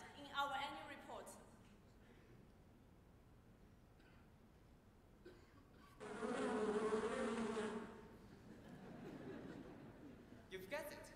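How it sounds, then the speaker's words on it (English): Chinese wild bees buzzing in a quiet, faint drone, with a louder close pass of a few seconds in the middle and brief background voices around it. "You've guessed it. This is about bees."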